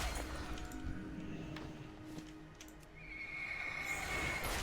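Horses in World of Warcraft whinny and neigh over a steady game ambience, the cries moderately loud against a continuous background wash, with a faint hoofbeat-like clatter.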